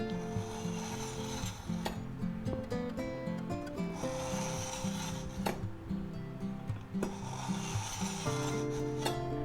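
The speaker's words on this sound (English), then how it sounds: "we'll take our aceti knife here, the Santoku, and we'll go ahead and sharpen it" Santoku knife drawn repeatedly through an AnySharp knife sharpener in a kitchen, producing light, rhythmic scraping strokes close by, with a few sharp clicks between passes.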